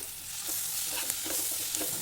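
Onions sizzle in a pan as a ground ginger, garlic and pepper paste goes in for potato poori masala, producing a continuous close frying hiss with a few soft stirring scrapes and no talking.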